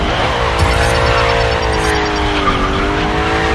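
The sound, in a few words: car drifting with tire squeal in GRID Legends video game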